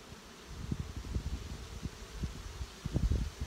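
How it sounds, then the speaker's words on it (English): Honey bees drone in a steady, faint buzz over an opened hive during an inspection before the smoker is lit, with low soft thumps and rustles of handling close by. "Bees are in a great mood today,"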